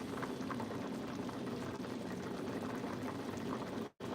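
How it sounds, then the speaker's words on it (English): Garlic and herb soup made with olive oil bubbles at a roiling boil in a pot, a steady close churning burble that runs on evenly before cutting out briefly near the end. "We're bringing it to that nice roiling boil"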